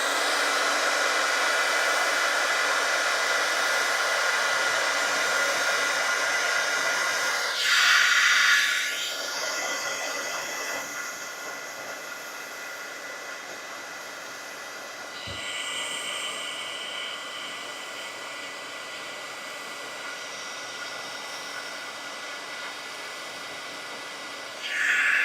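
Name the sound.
craft heat tool blowing to heat set ink on card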